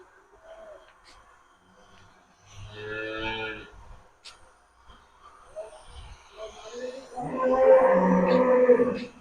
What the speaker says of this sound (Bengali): এই যে আমাদের গরুগুলো,